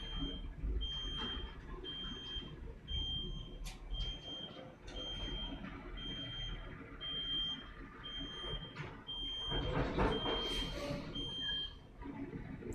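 A reversing truck sounding a long run of evenly spaced electronic beeps, steady and moderately distant, beneath a busy rumble of outdoor traffic and engine noise.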